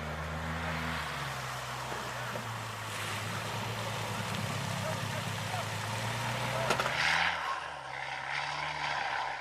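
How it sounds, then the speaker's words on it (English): Marine Corps amphibious combat vehicles move through the water out of a ship's well deck, a low steady engine drone under wind and sea wash, ending with a brief bang and shifting hum. "The ACVs roam out of the well deck while floating on the water and ultimately land on shore."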